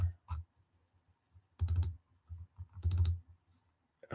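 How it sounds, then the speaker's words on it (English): A computer mouse clicks during a football watch-along of Wrexham against Colchester, heard as a few quick, close clusters of sharp clicks separated by short quiet gaps. "you'll just get to hear the mouse clicking away as we panic"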